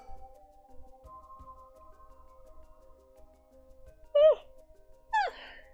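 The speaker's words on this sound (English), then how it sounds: "Big fucking yawn!" A big human yawn in a quiet room: two short voiced, sighing stretches of breath near the end, over a faint steady hum.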